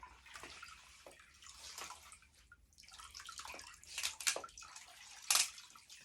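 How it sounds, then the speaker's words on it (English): Water drips and trickles from a Moxie mop twisted by its handle, broken by a few brief louder splashes and spatters, close and fairly quiet with no talking. "And you twist it like this to wring the water out."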